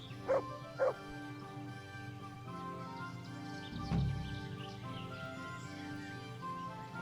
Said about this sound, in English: That was a wild dog.